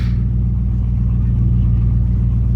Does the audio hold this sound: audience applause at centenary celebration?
no